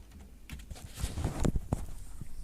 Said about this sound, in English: then you need to type in this part as one word